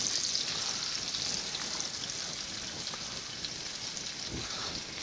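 Minced onion and garlic sauteing in a hot pan give a steady, even sizzle and crackle that holds at a constant level throughout, with no talking.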